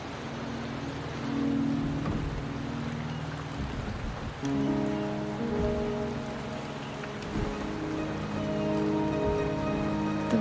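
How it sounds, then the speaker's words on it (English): Steady rain falls in the video game Wuthering Waves, a continuous hiss running under low game music and ambient tones, holding at an even level throughout. "The rain is subsiding, and the sky will soon clear."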